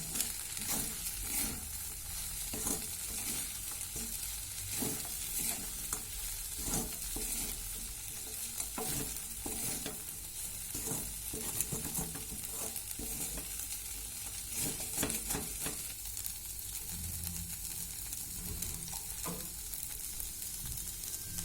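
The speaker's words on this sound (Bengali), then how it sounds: "একটু ভালো করে ফ্রাই করে নেব চিড়েটা দিয়ে।" Flattened rice (chira) frying with sugar in a pan, a steady sizzle with repeated stirring scrapes throughout, close and alone without talk.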